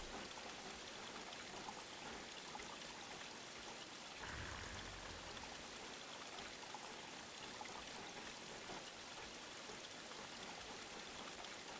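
Steady running water ambience from a Resident Evil video game, a continuous broadband wash like a stream or trickle, moderately quiet and unbroken, with a brief low swell partway through and no voices.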